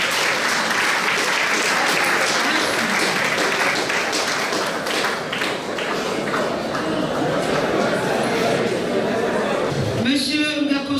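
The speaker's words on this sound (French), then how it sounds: "Applaudissez pour lui, s'il vous plaît." Sustained, dense applause from a crowd at an official wedding ceremony, loud and steady throughout, with a voice briefly emerging near the end.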